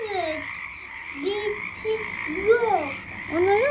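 Repeated frog croaks with rising and falling tones sound in short bursts, loud and close, over a steady background hum.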